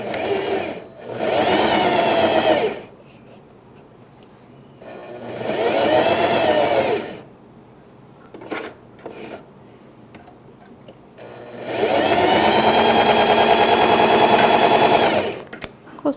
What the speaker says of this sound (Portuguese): Costura de um lado, costura do outro, somente para firmar.